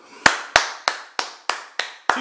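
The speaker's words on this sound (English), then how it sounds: "I am clapping for you." Seven sharp hand claps at an even, steady pace, close and clear with nothing else around them.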